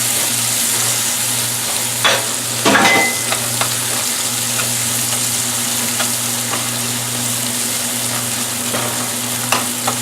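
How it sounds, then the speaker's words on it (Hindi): Onion, green chilli and ginger fry in a pan with a loud, steady sizzle, broken by a brief burst of stirring, close and continuous with no talking. "प्याज अच्छे से फ्राई हो रहा है"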